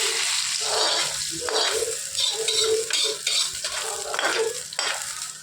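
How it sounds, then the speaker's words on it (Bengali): Hot spice tempering with dried red chilies poured into chicken curry, a bright sizzle with repeated stirring and metal utensil clatter against the pot throughout. "সেই সম্বরাটা আমি এই মাংস ঢেলে দেবো।"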